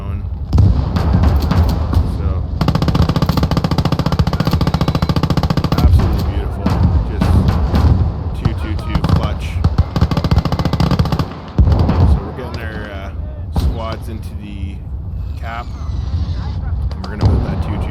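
A flak truck fires high-explosive rounds in the Gates of Hell video game, rapid loud bursts of repeated shots and booms continuing throughout, with a voice talking over part of it.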